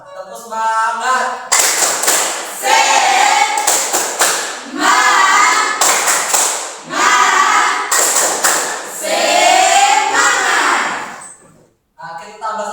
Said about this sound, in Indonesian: Oke, mari kita tepuk semangat.